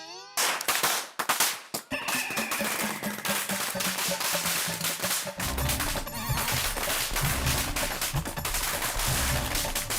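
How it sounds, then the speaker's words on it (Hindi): Firecrackers burst in a rapid crackling barrage, a few sharp pops first and then a dense continuous fusillade of bangs, loud and close. "अचानक पटाखे क्यों फोड़ रहा है?"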